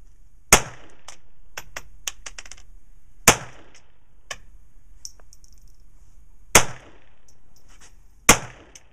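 Pistol shots ring out at a shooting range from a Sig Sauer or MKIII handgun: four sharp, loud reports spaced a few seconds apart, with fainter clicks and clinks between them.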